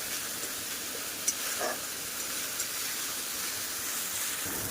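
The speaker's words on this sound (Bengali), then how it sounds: "মশলাটা কিন্তু খুব ভালোভাবে কষানো হয়ে গেছে" Tomato and ginger spice paste frying in oil in a pan, a steady soft sizzle throughout with a faint stir or two, no voices.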